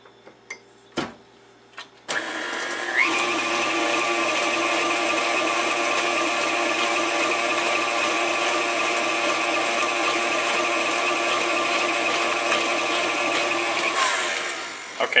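After a few close knocks and taps, an electric mixer kicks on to beat gingerbread cookie dough, holding a loud, even whirring hum for about twelve seconds before winding down.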